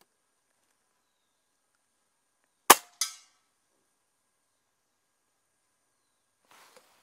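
A Diana Outlaw Gen2 air rifle fires a single shot, a sharp loud crack followed quickly by a second snap of pellet impact, then near silence with a faint rustle afterward.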